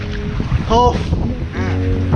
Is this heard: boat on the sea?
yes